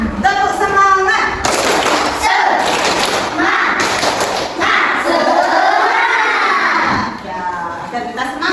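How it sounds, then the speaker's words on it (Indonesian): Schoolchildren in a classroom doing a rhythmic clapping cheer, loud close claps in quick patterned bursts mixed with children chanting along. "Coba anak-anak tepuk semangat."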